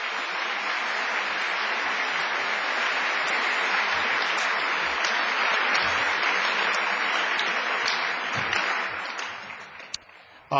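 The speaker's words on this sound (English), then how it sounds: "Could you please give all of those people a big, big round of applause?" At a high school Veterans Day ceremony, an audience gives recruiters a long round of applause. The dense, even clapping holds steady, then thins and fades out near the end.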